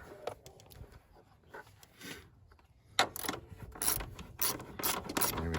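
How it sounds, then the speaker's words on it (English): A ratchet tightens a screw during serpentine belt replacement on a 2005-2008 Dodge Charger R/T, giving rapid close clicking strokes that start quiet and sparse, then grow louder and faster with metallic rubbing in the second half. "And we'll tighten that up."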